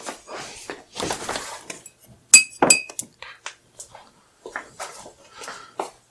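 Spoon clinking against a glass while honey soda is stirred, several sharp ringing taps and scrapes scattered through an otherwise quiet moment, close and clear.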